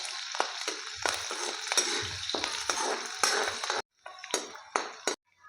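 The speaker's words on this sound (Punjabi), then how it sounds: "ਥੋੜਾ ਜਿਹਾ ਲਸਣ ਦੋ ਹਰੀਆਂ ਮਿਰਚਾਂ ਅਦਰਕ ਇਹਨਾਂ ਨੂੰ ਬਰੀਕ ਕੱਟ ਲਿਆ ਇਹ ਪਾ ਦਾਂਗੇ ਇਹਨਾਂ ਨੂੰ ਵੀ ਆਪਾਂ ਭੁੰਨ ਲਾਂਗੇ" Chopped garlic, green chilies and ginger are tossed into a pan with mustard seeds, giving soft frying sizzle broken by repeated scraping and clinking of a spoon against the pan, close up.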